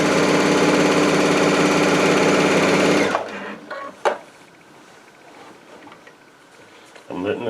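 A Baby Lock Altair sewing machine stitches down quilt binding in a steady, loud, even whir for about three seconds, then stops abruptly, leaving quiet handling noises and a sharp click.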